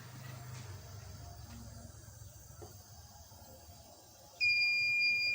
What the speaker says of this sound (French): Vous pouvez voir que le dispositif directement lance une alarme